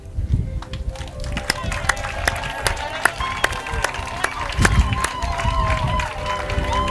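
A church congregation applauds with scattered, uneven claps, some sharp and near. The clapping is mixed with voices and crowd murmur.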